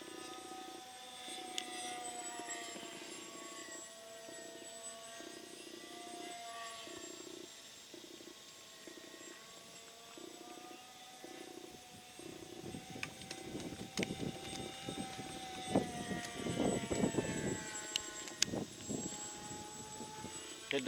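Twin-motor RC airplane with a faulty ESC, electric motors whining in steady tones that shift and surge unevenly, with rising rough bursts later in the run and a little background chatter.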